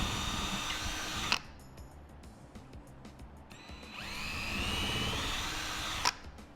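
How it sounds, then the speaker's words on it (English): A power drill pre-drills holes in drywall for shelf anchors, two close bursts of whining motor with a pause between, each spinning up and stopping abruptly. "using a pre-drill to get that hole started"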